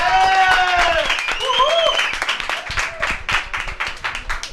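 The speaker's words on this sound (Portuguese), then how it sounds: "salve de palmas aí" Studio audience clapping on a live Brazilian television show, with talk and some voiced sounds over it at first, then a steady, moderately loud round of clapping.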